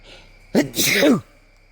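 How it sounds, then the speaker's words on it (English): A single close sneeze with a sharp inhaled lead-in and a loud burst, alone in a quiet room. "Gonna sneeze."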